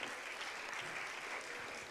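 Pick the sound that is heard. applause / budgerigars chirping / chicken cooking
applause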